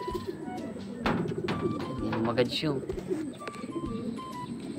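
Pigeons coo softly nearby, low throaty calls repeating, while a person speaks over them.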